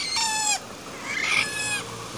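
A mother hen of a wild-type labuyo jungle fowl gives two short bursts of clucking, close and fairly loud, separated by a brief pause.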